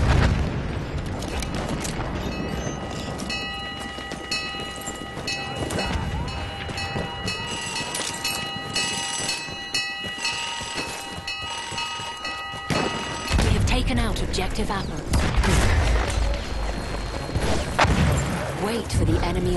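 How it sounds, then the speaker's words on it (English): Enemy artillery barrage in Battlefield 1 pounds with heavy booms and rumbling explosions, dense battle noise with sustained tones and a sudden loud burst near the end, under occasional voices. "Wait for the enemy artillery barrage to stop firing"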